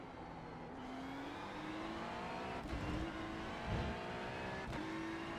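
Turbocharged Ferrari 296 GT3 race car engine at Fuji Speedway in iRacing, a steady loud drone with rising pitch as it accelerates through the gears, brief shifts breaking the climb, heard alone throughout.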